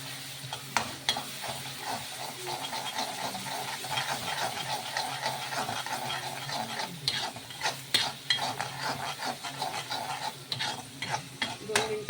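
Chicken curry masala with ginger-garlic paste being stirred in a pan, repeated scraping and clinking strokes over a low sizzle, growing busier and more rhythmic toward the end, close and moderately quiet.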